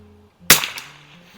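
A single sharp shot from a Mossberg 144US military trainer rifle fired with iron sights at 50 yards on an outdoor range, a loud crack followed by a brief fading echo.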